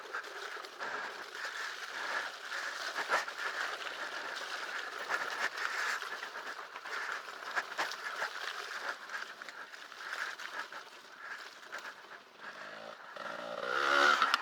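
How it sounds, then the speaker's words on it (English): A Light Bee electric dirt bike ridden around a race loop at a grand prix, its steady motor whine and rattle of rough ground running continuously with no voices, rising louder at the very end. "the bike sounds like shit too"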